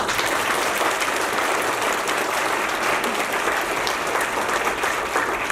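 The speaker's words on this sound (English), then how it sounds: "I want to give them a round of applause for being American heroes." Steady, full applause from an audience at a book launch honoring American heroes on stage, continuous and even throughout with no speech over it.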